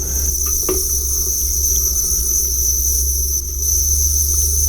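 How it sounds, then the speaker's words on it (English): Crickets chirp steadily in a dense, continuous high buzz, a whole field of them going at once with no other sounds. "that's how you make a field of crickets"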